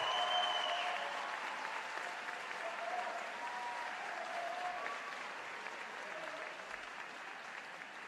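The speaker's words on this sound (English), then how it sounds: "Again, let us thank, and a round of applause first for our governor, Andrew Cuomo." A crowd gives a sustained round of applause for the New York governor at a free state college tuition proposal event. The dense, even clapping carries on for about eight seconds, strongest at the start and easing slightly toward the end.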